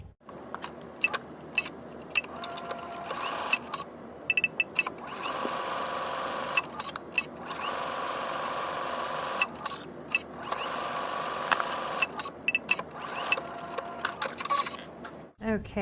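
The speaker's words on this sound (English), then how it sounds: "we'll take it to the machine and we'll stitch along the seam line on the raw edges here" A sewing machine runs steadily while stitching along the seam line on the raw edges of a pocket, with a continuous close whirring hum that pauses briefly now and then.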